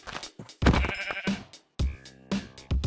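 Minecraft sheep bleat several times in a row, loud and close, each cry a wavering baa with short gaps between calls.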